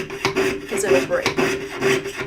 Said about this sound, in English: Try to let your saw do all of the work when you are sawing.